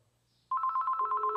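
Outgoing phone call placed through Alexa, a loud trilling ring tone that starts abruptly after a brief silence and pulses rapidly and steadily, with no talking.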